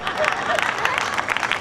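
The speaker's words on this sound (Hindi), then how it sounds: "जो मेरे सम्मान में घनघोर तालियां बजाई हैं," Audience at a Jain poetry gathering (kavi sammelan) in Ladpura, Kota, clapping for the poet in a steady, dense wash of applause that fills the whole short stretch, with crowd murmur mixed in.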